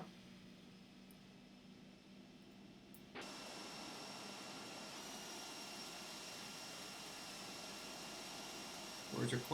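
Aircraft engine spinning up in X-Plane 11 on an Epic EG1000 at startup, a steady whooshing jet-like roar that jumps louder partway through and holds, with a brief clatter at the end.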